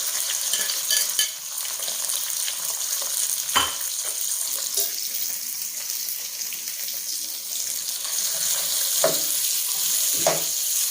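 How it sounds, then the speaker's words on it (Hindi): Okra (bhindi) half-frying in a pan for bhindi masala: a constant bright sizzle with occasional spatula scrapes and knocks, heard close and continuous with no voices over it. "इसको हम हाफ फ्राई करेंगे।"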